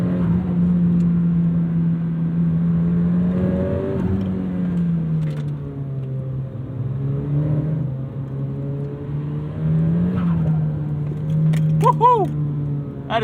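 Turbocharged 2002 Nissan Silvia S15 Spec-R driven on a cold day, a close, steady in-cabin engine hum with a few rises in pitch and chirpy turbo flutter near the end, with light talk in the car.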